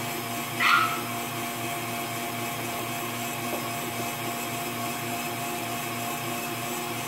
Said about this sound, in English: So now we're just waiting for our whites, my meringue to be ready. It's still mixing in there.